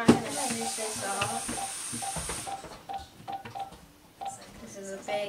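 A telephone keypad dials a long number, a rapid series of short beeping tones in an uneven rhythm, with speech and a hissing background in places.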